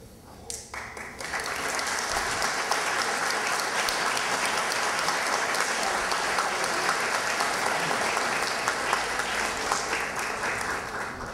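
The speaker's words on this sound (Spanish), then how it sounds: "Fuerte las palmas para el señor Jorge Guerrero Lang." An audience at a solemn session in Miraflores for Peru's Independence anniversary breaks into applause, which swells quickly into a dense, sustained roll of clapping from many hands that continues steadily to the end.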